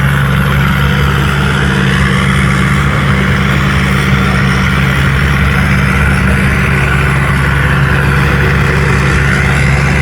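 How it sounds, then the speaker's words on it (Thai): Isuzu 6HK1 turbo diesel engine of about 270 horsepower drives a rice harvester, running as a steady, loud, continuous low drone with an even mechanical hum and no talk. "รุนี้ใช้เครื่องยนต์อีซูซุ6 h k 1ครับผม อยู่ประมาณ 270แรงม้าเทอร์โบ"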